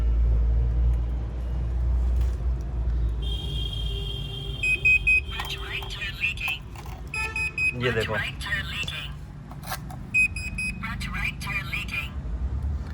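A SkyShop C240 Prime tire pressure monitor sounds its alert, repeated high electronic beeps and a synthesized voice warning against a low rumble from the car, while someone talks nearby.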